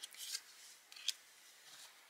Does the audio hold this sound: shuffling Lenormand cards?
yes